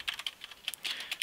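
Quick, light taps of code being typed on a computer keyboard, about a dozen clicks in an irregular run, close and quiet with no talking.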